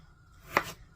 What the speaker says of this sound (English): I want to just cube them up